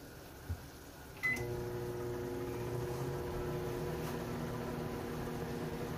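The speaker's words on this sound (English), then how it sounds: "I'll put those in the microwave to start warming up" A quiet click and a beep, then a microwave oven starts and runs with a steady low hum and whir.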